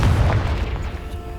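A Confringo explosive spell goes off in the video game Hogwarts Legacy as a single deep, booming burst that hits loud at once and then rumbles away over about a second.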